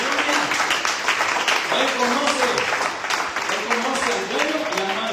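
Church congregation applauding during a Spanish-language sermon, a steady wash of clapping from many hands heard throughout, with a preacher's voice carrying over it.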